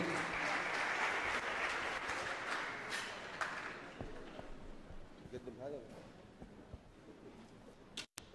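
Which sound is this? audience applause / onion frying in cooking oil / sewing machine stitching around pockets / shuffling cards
audience applause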